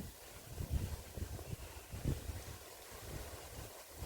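Gusts of wind blow through a three-year-old conifer garden, a faint, rough, buffeting rumble rising and falling with no speech.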